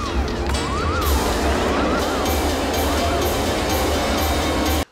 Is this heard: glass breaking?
yes